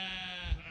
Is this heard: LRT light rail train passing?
no